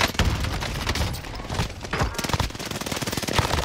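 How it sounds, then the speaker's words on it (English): Rapid automatic gunfire and a grenade blast from a Call of Duty battle on Rebirth Island. The shots come as loud, dense bursts in quick succession, with a heavy boom mixed in. "Throwing grenade."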